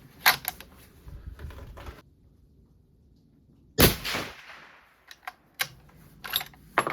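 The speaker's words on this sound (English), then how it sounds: "We can shoot another good group here." A .300 Norma rifle fires a 208-grain ELD-M load, one sharp, loud report cracking out midway, surrounded by smaller mechanical clicks and handling noises.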